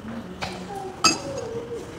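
Glasses clinking in a toast with collagen drinks, two short bright clinks about half a second apart and a louder third one near the middle, with faint voices in the background.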